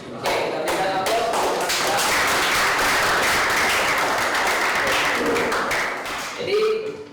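A classroom of students applauds during a teaching practice session, a dense, steady burst of clapping that fills the room for several seconds before tapering off, with a brief voice at the end.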